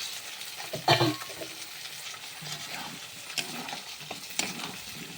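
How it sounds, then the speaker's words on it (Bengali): Ginger, onion, garlic and tomato fry in oil in a pan, giving a soft, steady sizzle with a few scraping stirs of a utensil, fairly quiet throughout. "এখানে আদা পেঁয়াজ রসুন আর টমেটোটা দিয়ে তেলে ভালো করে কষিয়ে নিচ্ছি"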